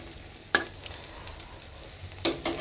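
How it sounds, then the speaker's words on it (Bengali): Thick eggplant slices coated in gram flour and rice flour frying in oil, a soft steady sizzle with two sharper bursts of spatter partway through, fairly close and without talk. "আর আজকে বেগুনটা একটু অন্যরকমভাবে ভাজছি।"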